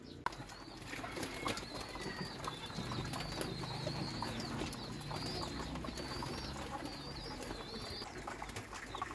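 Hungry pigeons in a loft before feeding give soft cooing and bursts of wing flapping, a busy low murmur of birds close by with no talk.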